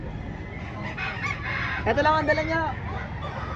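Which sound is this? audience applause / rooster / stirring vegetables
rooster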